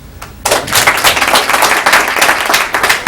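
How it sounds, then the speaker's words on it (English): A city council meeting audience breaks into applause, a sudden, loud, close burst of many hands clapping that holds steady for about three seconds. "Again, applause."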